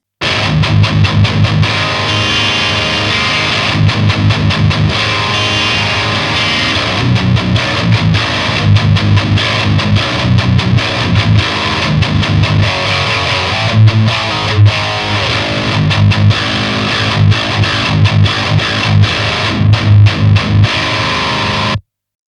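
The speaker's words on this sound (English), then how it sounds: "So I've plugged the guitar into the Fireball 100 with my favorite settings." Heavily distorted Schecter KM-7 MK-III EX seven-string electric guitar through a Fireball 100 tube amp, playing chunky riffs with rhythmic palm-muted chugs and ringing chords, loud and continuous, no voices.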